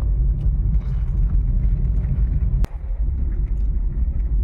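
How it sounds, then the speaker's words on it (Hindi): Car on the move: a steady, loud low rumble of engine and road noise with wind buffeting throughout, broken by one brief sharp click. "तो चलो गाड़ी चलाऊँ"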